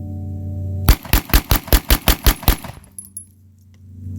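A gun with a big magazine fires about ten loud shots in quick succession, close and sharp, standing out from a low background hum that comes back after the burst.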